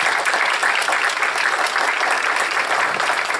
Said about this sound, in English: Another hand for Brian and Scott and the organizers.